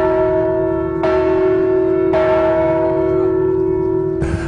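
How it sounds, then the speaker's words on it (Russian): A large ceremonial bell, the symbolic Bell of Accord, rings three times at even intervals, each strike blooming into a long, resonant hum that carries into the next. "они трижды ударили в символический колокол согласия"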